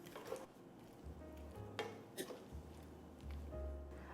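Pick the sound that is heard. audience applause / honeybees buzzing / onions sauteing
onions sauteing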